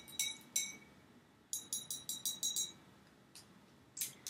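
Clinks of a utensil against a glass container while stirring an acetic acid solution, sharp bright taps in quick clusters separated by short pauses, close and fairly faint.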